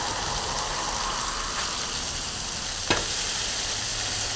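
Smash burgers for Oklahoma onion burgers sizzling loudly on a griddle, a dense steady hiss broken by one sharp spatula scrape as a patty is flipped.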